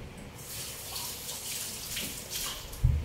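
Running tap water pours steadily over papaya being washed, a continuous faint splashing hiss with a small bump near the end.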